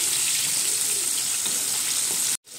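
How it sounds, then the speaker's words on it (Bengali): Chicken wings deep frying in hot oil, a dense, steady crackling sizzle close by that cuts out abruptly near the end, with no voices. "দেখে বোঝা যাচ্ছে যে চিকেন উইংসগুলো একেবারেই সুন্দরভাবে ভাজা হয়ে গেছে"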